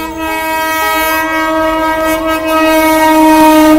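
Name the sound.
train arriving at Ichapur station, horn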